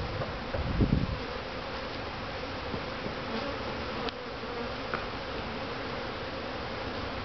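Honeybees humming around an open hive during an inspection, a continuous soft buzzing drone close by with occasional faint rustles and one brief louder swell near the start, no speech.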